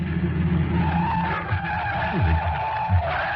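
A car skids as its brakes and handbrake fail in an old radio drama, a steady loud tire screech with engine roar running continuously throughout, close and without speech.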